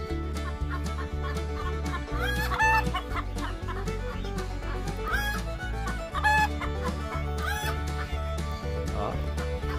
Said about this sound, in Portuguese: Ali no chão tá o galinho.